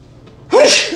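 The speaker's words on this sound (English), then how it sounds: "I think I'm gonna sneeze." A single sharp sneeze, close and loud, bursting out after a brief quiet breath.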